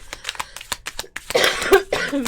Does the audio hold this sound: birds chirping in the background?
no